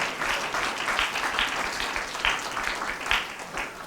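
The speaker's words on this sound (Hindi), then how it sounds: "तालियां बजा करके प्रभु का धन्यवाद कीजिए" A church congregation claps in thanks to God, a dense, steady applause of many hands holding an even level throughout, with no voices over it.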